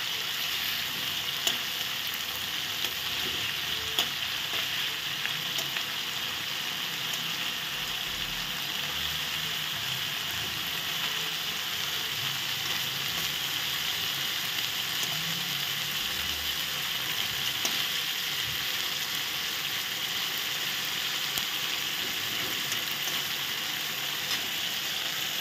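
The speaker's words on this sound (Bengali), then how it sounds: "মাছগুলো সুন্দর করে ভেজে নিচ্ছি।" Prawns fry in oil in a pan with a continuous, even crackling sizzle that runs close and unbroken throughout, with faint stirring clicks and no voices.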